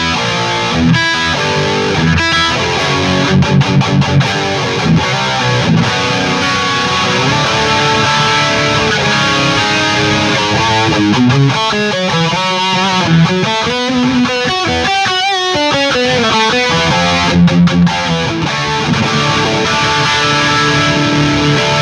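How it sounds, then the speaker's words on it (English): A Gibson Custom Shop Dave Mustaine Flying V electric guitar with humbucker pickups plays continuous riffs and leads, loud and dense, with a heavily distorted tone throughout. "Check out the bridge humbucker, both of them together, and then the neck humbucker, and cleans leads and distortion."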